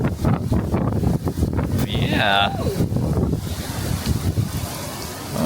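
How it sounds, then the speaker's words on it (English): Hurricane Milton's wind in Orlando buffets the microphone with a loud, continuous gusting roar, and a person speaks briefly over it. "It's a little windy."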